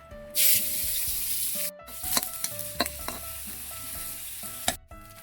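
Garlic, onion and chili dropped into hot oil in a pan, a sudden loud hissing burst settling into a continuous sizzle with a few sharp stirring clicks and scrapes.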